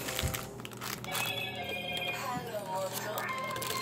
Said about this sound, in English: Excuse the phone back there